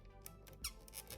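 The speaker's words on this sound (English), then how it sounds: "Both arms have some squeaky limited movement." Faint, brief squeaks from the stiff arm joints of a vintage Hock toy figure being moved, several short creaky bursts in quick succession with no talking.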